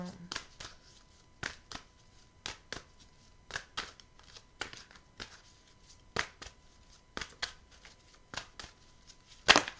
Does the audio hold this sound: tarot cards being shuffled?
yes